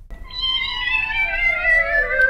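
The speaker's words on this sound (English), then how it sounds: "I experienced the cat piano concerto for the first time ever" Cat meows played as notes from a cat piano app on an iPad, a loud, clear, drawn-out tonal meow with a falling pitch, with no talk over it.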